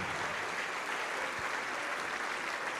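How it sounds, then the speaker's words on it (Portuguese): A church congregation applauds steadily, a dense, even wash of clapping from many hands that fills the room for the whole stretch without pause. "Vamos aplaudir mais ao nome de Jesus."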